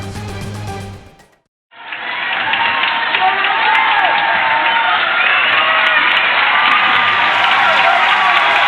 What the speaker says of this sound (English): I think you can hopefully hear the crowd through our audio.